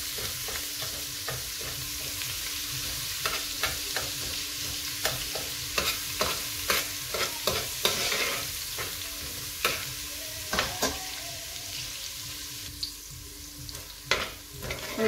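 A teaspoon of white cumin fries in a pan while a spoon stirs it, making repeated short scraping strokes over a soft, constant sizzle, close by and without talk.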